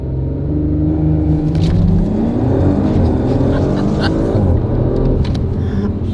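Audi RS4 accelerating from a standstill, its engine rumble rising steadily in pitch and strength, loud and continuous throughout with no talking over it.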